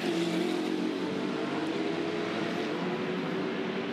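An Aston Martin sports sedan in a National Sports Sedans race at Bathurst, its engine a steady, loud, continuous roar as it runs close by, with no talking over it.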